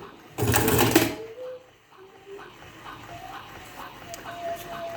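Homemade cigarette tube filling machine winding, a brief loud motorized whir and clatter followed by quieter mechanical ticks and short beeps.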